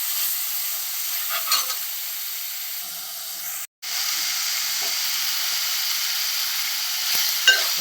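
Mutton curry with mint fries in a pan, giving a steady, bright sizzle that fills the whole stretch, broken once by a brief total dropout, with a few soft stirring scrapes near the end.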